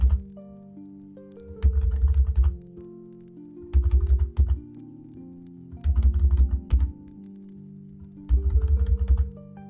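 Bursts of typing on a computer keyboard, four or five clustered runs of rapid key clicks separated by short pauses, close and clear with no talking.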